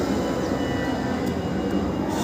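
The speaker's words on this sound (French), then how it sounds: "maintenant c'est les avions" A steady, loud, broadband roar from an airplane passing overhead fills the whole clip without pause.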